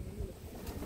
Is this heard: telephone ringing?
no